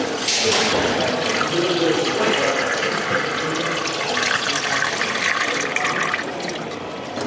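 Water poured from a small canister into a Syrena 607 car, a loud, close, continuous gurgling pour that runs steadily for several seconds.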